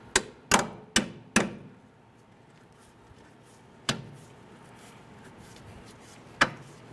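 Sharp metallic clicks and knocks ring out while a strut bolt is worked loose on a 2003–2011 Honda Element front suspension: four quick close hits, then two isolated ones spaced seconds apart over quiet background.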